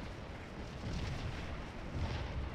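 Dense, continuous rumbling of massed artillery and infantry musket fire in the Civil War strategy game Scourge of War: Antietam, a steady distant roar of overlapping booms and volleys with no distinct individual shots.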